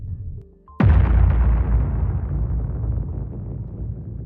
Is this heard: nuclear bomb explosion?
yes